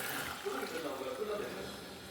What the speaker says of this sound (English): Now I am going to add the water.